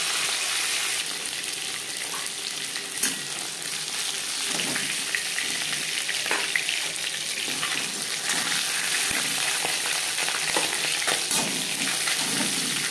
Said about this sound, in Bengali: মাছ ও মাছের মাথা ভাজা হয়ে গেছে।